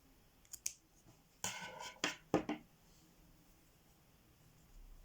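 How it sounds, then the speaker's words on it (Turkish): Scissors snip knitting yarn in a few close, crisp clicks and cuts, including a quick double snip, in a quiet room while someone speaks softly. "ipim bitince kesiyorum."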